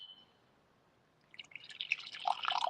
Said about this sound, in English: So we're going to pour some scalding hot coffee.